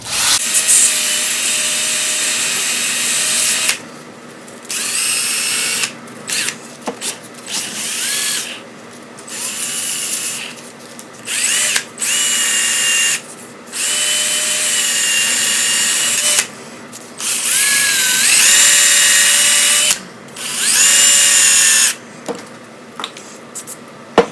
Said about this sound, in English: I'm going to hopefully chuck it up in my drill